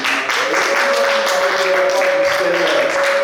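A church congregation applauds and cheers to welcome a pastor forward, with dense clapping under a sustained tonal voice or music line and some speech mixed in.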